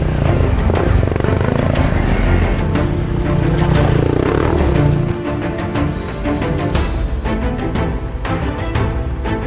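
Motorcycle engine revving hard up a rocky, dusty rural uphill track, loud and close throughout, with throttle surges and scattered clatter of tyres over stones.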